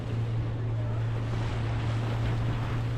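A tiny boat trolling past a large patch of weed at sea, with a steady low engine drone mixed with wind buffeting and water rush, constant and close throughout.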